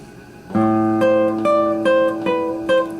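Plucked guitar chords ring out one after another in a slow, even rhythm, each strum sustaining clearly, close and alone.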